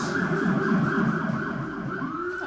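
A wailing siren rises and falls continuously, loud and steady, with an undulating electronic tone that shifts pitch near the end.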